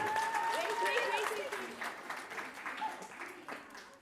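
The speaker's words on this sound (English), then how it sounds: "Let's give them a round of applause." An audience at a primary school speech contest applauds, a dense crackle of clapping that gradually fades, with voices talking over it.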